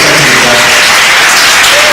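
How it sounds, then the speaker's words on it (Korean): Loud, dense applause from an audience at a political gathering, a steady roar of many hands clapping at close range without a break. "큰 박수"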